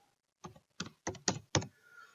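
Five quick, fairly faint keystrokes on a computer keyboard tap out in an uneven rhythm, each a short crisp click, with quiet pauses between them and no talking.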